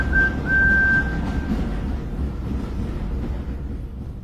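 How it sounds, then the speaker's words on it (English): A train guard blows a single long, steady whistle at a station. The tone is loud and clear at first and then fades away over a low, rumbling background of steam and noise. "The guard blew his whistle"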